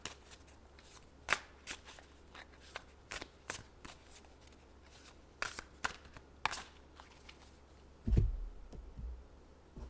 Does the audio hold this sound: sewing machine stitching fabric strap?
no